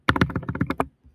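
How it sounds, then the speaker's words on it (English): Rapid keystrokes clatter on a computer keyboard, about a dozen crisp taps in a quick burst up close, then a brief pause and one last faint tap. "I'm going to be typing them out now so"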